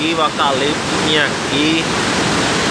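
Rushing water of the flooded Mundaú river, a steady broadband roar running throughout under a man's nearby speech.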